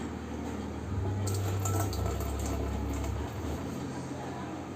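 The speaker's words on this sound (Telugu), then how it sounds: "తర్వాత వాటర్ని దాంట్లోకి పోయింది" Water is poured into a water tin for cleaning, giving a steady close splashing gurgle that runs for several seconds before tapering off.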